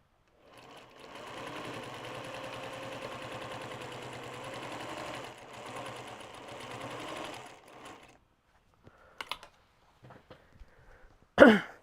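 A sewing machine runs steadily for about seven seconds, stitching binding onto a June Tailor quilt-as-you-go project bag, then falls quiet. A few soft taps and a short louder rustle follow.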